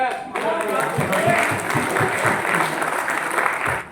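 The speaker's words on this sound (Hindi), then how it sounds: "और आप ताली बजा रहे हो।" An audience at a business workshop claps in sustained applause for several seconds, a dense patter of hands heard from within the crowd, with some voices mixed in.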